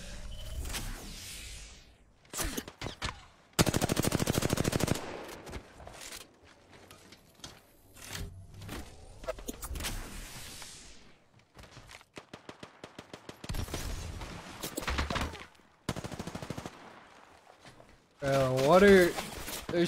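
Gunfire in a shooter game during a duo tournament: repeated sharp bursts and rapid single-fire volleys, loud and close, with people talking between shots.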